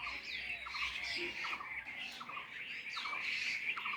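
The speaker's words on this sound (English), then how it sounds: "The birds themselves sing with their souls and get joys flying here and there" Wild birds in a natural setting give repeated squawking calls and chirps at a moderate distance, scattered irregularly over a soft background hiss.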